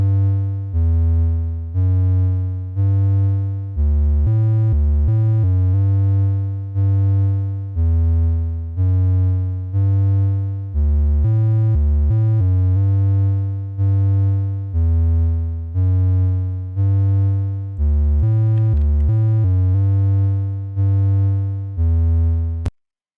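A simple browser-based synthesizer built with Tone.js plays a looping sequence of pure, tone-like notes, repeating short beeps in a steady even rhythm, loud and alone.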